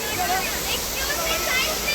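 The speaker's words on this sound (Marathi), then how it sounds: "हे असं वाहतच राहतं आहे पाणी" A steady, loud rush of falling water roars continuously without a break, like a waterfall heard from close by, at Jummapatti waterfall near Neral during the monsoon.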